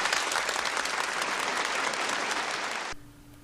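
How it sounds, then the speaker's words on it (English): A crowd bursts into sustained, steady clapping in a film scene set in the dystopian world of 1984, the applause cutting off abruptly near the end and leaving a faint hum. "Everyone claps in excitement."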